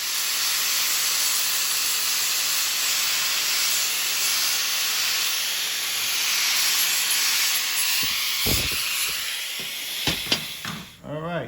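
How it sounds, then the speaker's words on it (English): An angle grinder fitted with a flap disc works a steel pipe for a custom mini bike, giving a loud, continuous abrasive hiss over a thin high whine, with a few sharp knocks and clatter near the end. "we're just going to grab our grinder with the floppy disc on it"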